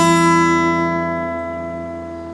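A Jumbo-bodied acoustic guitar strums a single chord that rings out richly and decays slowly over a couple of seconds, close and alone.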